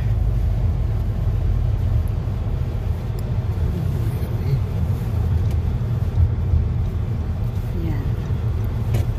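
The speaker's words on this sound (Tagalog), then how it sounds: "Traffic everywhere." Steady low rumble of street traffic along 82nd Street near a Catholic Social Services building, engines droning continuously at moderate distance with no clear individual vehicle passes.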